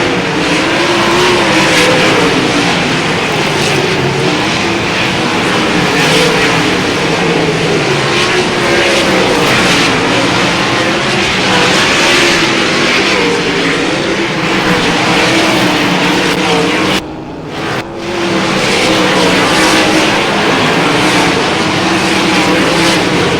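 Race cars roar around Battleground Speedway, a dense, loud, continuous engine howl from a pack of cars in traffic, rising and falling as they pass, with a brief dropout near the end.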